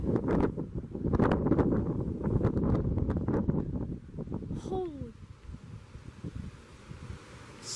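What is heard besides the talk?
strong wind gust during a storm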